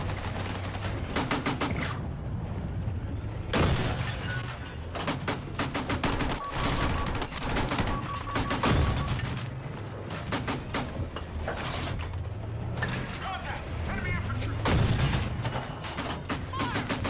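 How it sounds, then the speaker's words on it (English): Machine gun in a first-person shooter, loud sustained bursts of rapid automatic fire with short pauses between strings, close and dense throughout. "That's the good machine gun."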